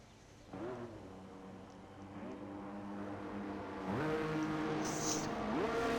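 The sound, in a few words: race cars driving out for first laps, Formula 1 video game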